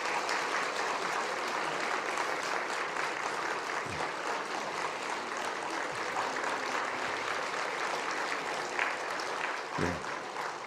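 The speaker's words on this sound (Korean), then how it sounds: "우리 한번 일어나서 그 자리에서 인사하실 때 우리 한번 박수로 환영하겠습니다" A church congregation applauds to welcome newly elected officials during a Sunday worship service, a full, sustained wash of clapping from many hands with a couple of brief thumps.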